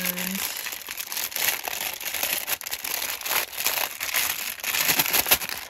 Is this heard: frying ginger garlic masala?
no